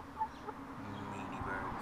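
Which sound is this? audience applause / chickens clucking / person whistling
chickens clucking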